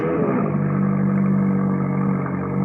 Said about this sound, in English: No, it's just the car is going away.